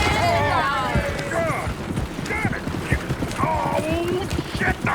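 Horse hooves clopping and running in Red Dead Redemption 2 gameplay, a rapid irregular patter of footfalls mixed with wagon and mechanical noises, sitting under near, overlapping voices and shouting.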